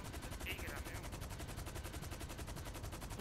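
Rapid automatic gunfire rattles steadily in GTA V Online, a fast regular stream of shots held at a faint, distant level for the whole stretch.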